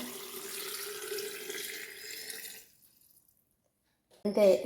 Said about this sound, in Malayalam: അരിച്ച് വെച്ച ഉപ്പ് വെള്ളം ഇതാ ഇതിലേക്ക് ഒഴിച്ചു കൊടുക്കാം